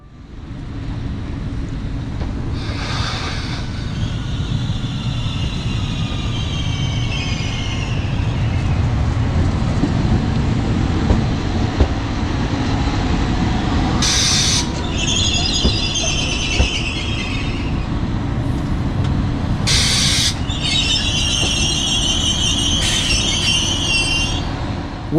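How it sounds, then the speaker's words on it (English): A Régiolis train rolls steadily into a station with a loud, continuous rumble, joined by several high, shrill wheel squeals as it slows. "now we can take a look at the arrival of my train"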